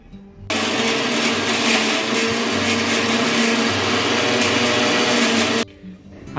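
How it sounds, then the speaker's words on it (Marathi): A mixer grinder blends chutney with yogurt in one loud, steady whirring run of about five seconds, starting and stopping abruptly with a little quiet at each end. "आता मिक्सरला बारीक करायचं"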